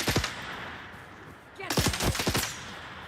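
Gunfire in the video game Dune Awakening comes as rapid bursts of sharp shots, a short volley first, then a pause and a longer rattling burst, close and crisp.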